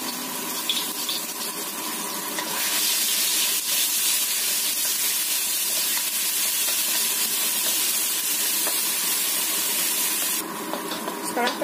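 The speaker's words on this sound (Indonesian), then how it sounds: "Panaskan 3 sendok makan minyak atau secukupnya. Kita tumis dulu bumbu halusnya sampai kecium baunya." Ground spice paste sautéing in about three tablespoons of hot oil in a pan, a steady hiss that swells louder after a short quieter start and then drops back near the end.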